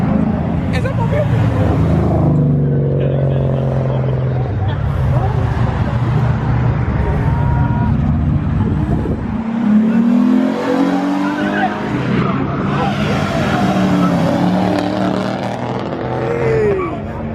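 Mustang engine revving hard with tire squeal at a crowded car meet, the roar steady and loud throughout while people talk and shout nearby.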